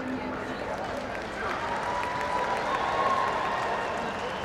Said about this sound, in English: You're so gentle with your clapping.